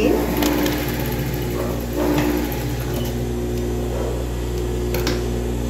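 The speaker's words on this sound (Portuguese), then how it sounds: "E aqui a gente vai passar a costurinha." A sewing machine runs steadily while stitching a seam on a children's ruffled trapeze dress, giving a continuous droning hum with faint rhythmic clatter and no talk.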